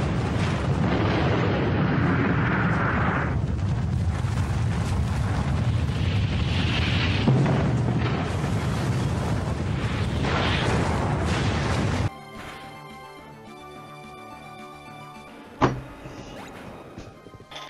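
A loud, roaring Explosion attack in Pokémon Ruby rumbles for several seconds, then gives way to quieter game music with a single sharp hit.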